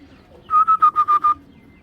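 Banja racing pigeons give a quick run of six evenly spaced, clear cooing notes, fairly close and alone against a quiet background.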